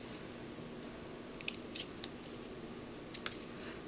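Scissors snip purple organza ribbon in a few quick, quiet clicks at close range, over a faint background hiss while making a card.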